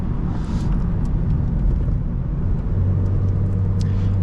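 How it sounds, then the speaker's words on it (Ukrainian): An 8th-generation Honda Civic with an automatic gearbox accelerates from about 3000 rpm, a loud steady low engine drone filling the cabin with a rising hum toward the end, no talking. "От у нас 3000 обертів. Ми натискаємо і ми, в принципі, одразу поїхали"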